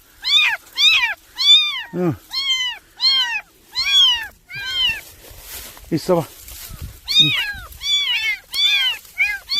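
Stray kittens, two of them wandering, meow repeatedly in a steady run of high, insistent cries close by, with a person speaking briefly among the calls.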